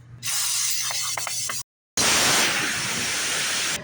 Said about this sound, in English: I'm going to take some high pressure air, and I'm going to spray all this clean